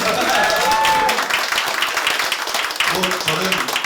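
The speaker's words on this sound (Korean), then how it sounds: "이상 박수로서 마치도록" Audience clapping at a public broadcast event, a dense burst of applause running throughout while someone speaks over it.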